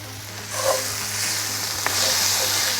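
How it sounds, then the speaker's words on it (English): Shakshuka sizzles steadily in a hot pan with a brief clatter of stirring; a constant hiss fills the clip at moderate loudness. "Let's go back and stir."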